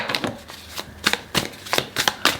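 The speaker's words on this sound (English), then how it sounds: "Give it a good shuffle before we get in." Tarot cards are shuffled in quick riffling bursts, about eight crisp papery flurries close to the microphone, with no talk over them.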